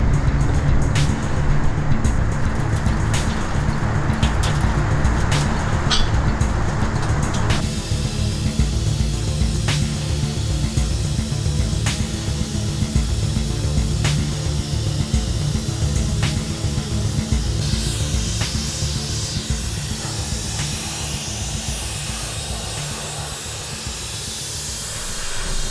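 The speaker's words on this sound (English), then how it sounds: "media blasting on this bad boy will be started." Media blasting paint off a 1966 Pontiac GTO body, a loud continuous hiss and roar of abrasive spray with shifting intensity and occasional pops, running steadily without speech.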